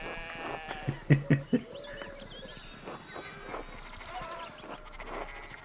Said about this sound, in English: One of the fence rails fell off and the sheep started hopping it.